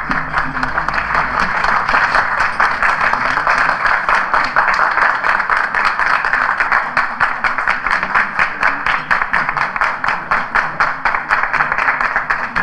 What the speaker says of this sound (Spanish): ¿Cómo pueden aplaudir?